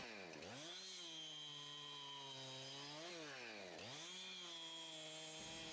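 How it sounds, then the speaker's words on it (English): A chainsaw works through a fallen tree lying on a dock, its engine note dipping and rising between short cuts, steady and fairly distant, with no talking. "as I'm cutting this, what I'm trying to do is take little bites"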